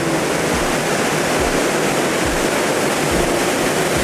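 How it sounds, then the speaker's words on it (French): A river flows close by with a dense, unbroken rushing roar that holds at an even level throughout, with no talking over it. "Mec, il y a une rivière là."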